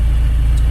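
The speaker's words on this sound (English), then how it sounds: "I can just beast on it, and then I get a bit of turbo whistle back through it as well" A JDM project car's turbocharged engine rumbles loudly through its exhaust, a deep, steady, close-up drone with no voices.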